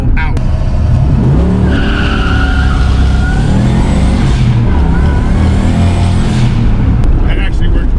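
A stick-shift car fitted with the Tamer is started with the clutch pedal out, giving a loud sustained engine roar with rising and falling revs and some squealing tones over the whole span.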